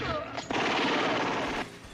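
Gunfire from a John Wick gun fu action scene, a dense, loud burst of rapid shots blended with a movie soundtrack, continuous for about a second and a half before cutting off.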